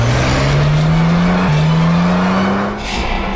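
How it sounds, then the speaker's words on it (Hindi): A car turns around and speeds off: a loud engine revs with a rising whine, a brief shift midway, and tyre noise that fades at the end, with no talk. "पीछे यूटर्न लो ना और यहाँ दाईं ओर से निकालो गाड़ी, जल्दी।"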